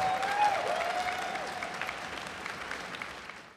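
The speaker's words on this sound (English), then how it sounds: "Can I get one more round of applause for the VGBC boys, Gimmer and Apostle?" A crowd applauds at a moderate distance, a dense patter of clapping that gradually thins and fades out.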